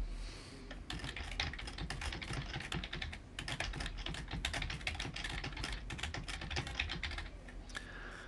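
Dense, continuous typing on a computer keyboard, keys clattering rapidly and steadily at close range for the whole stretch, with no voice over it.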